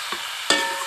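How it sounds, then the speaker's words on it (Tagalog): A banana heart dish with roast pork is stirred in a frying pan: two quick scraping strokes over a steady background sizzle, with no talking. "Haluin natin ang ating masarap na ulam."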